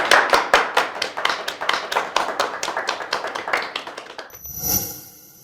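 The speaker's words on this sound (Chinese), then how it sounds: "都愣着干什么呢？ 鼓掌啊！" Office staff break into applause after a boss's announcement, a steady run of brisk, fairly close hand claps lasting several seconds before fading out, with no speech over it.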